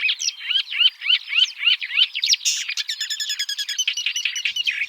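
A loud, harsh great reed warbler song of rapid grating chirps and repeated croaking phrases, continuous and close, with no other sound behind it.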